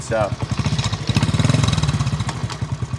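A 1980 Honda CT70 minibike's small single-cylinder engine putters with a rapid, even thumping beat close by, with a voice briefly heard over it.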